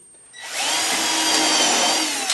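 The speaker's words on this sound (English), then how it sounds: "Now I'm just going to countersink them" Power drill countersinking screw holes in pieces of wood for an outdoor potting bench, starting after a brief quiet moment and running as a steady, close, loud whine for about two seconds.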